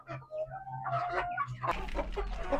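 Ratu Siam chickens from Thailand cluck and murmur close by in a continuous, fairly quiet stream of overlapping calls.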